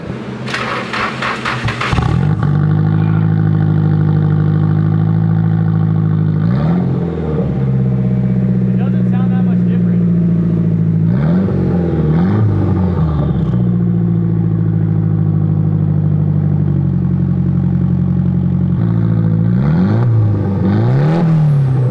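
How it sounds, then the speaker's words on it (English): A 1989 Nissan 240SX S13 drift car with straight-piped exhaust starts up and idles loudly, then revs repeatedly in several sharp, raspy bursts over a rumbling idle, close to the listener. "We're gonna see what it sounds like straight piped."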